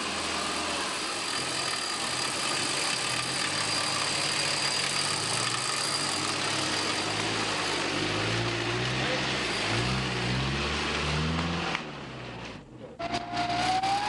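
A vehicle on the Camel Trophy in Madagascar is winched forward, its engine droning steadily up close with a rising mechanical whine near the end, and a voice speaks over it.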